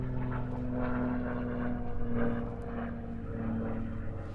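A large aerobatic propeller plane flies overhead at a national aerobatics championship in Britain. Its engine gives a steady droning hum with a slowly shifting pitch that swells and fades slightly, heard alone at moderate distance.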